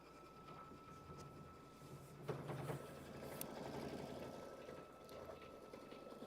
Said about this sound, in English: Because that's the final stitch, they do it twice.